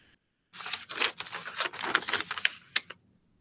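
Scissors snip through a paper bead strip in a quick cluster of crisp, close cutting and rustling sounds lasting a couple of seconds, soft overall, with silence before and after.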